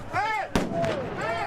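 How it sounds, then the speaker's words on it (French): A police dispersion grenade thrown by hand bursts in a single sharp, loud blast amid a street clash, with crowd voices and shouting around it. "on voit directement un policier lancer une grenade de désencerclement vers le haut"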